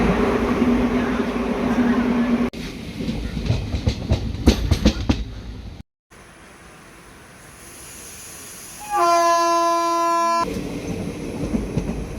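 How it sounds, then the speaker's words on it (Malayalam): A train rumbles and clatters nearby at Tirur railway station, then a long train horn sounds loudly before the rolling noise of the cars continues. "ഇപ്പോൾ ട്രെയിൻ വരും"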